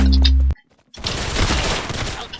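Gunfire in the Roblox game Arsenal: a loud close burst, a brief silence, then a dense, noisy volley of rapid shots, with no talk over it.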